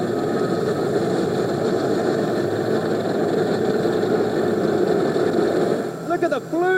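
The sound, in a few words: diesel engines of military tanks in Victory Day parade, Red Square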